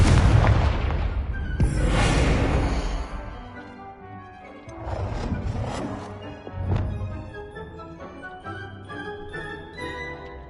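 Confringo blasting spell in the Hogwarts Legacy video game, a series of loud booming explosions and crashes with ringing debris, the strongest at the start, then further blasts that fade into a lingering resonant tail.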